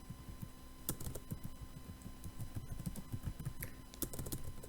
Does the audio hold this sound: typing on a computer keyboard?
yes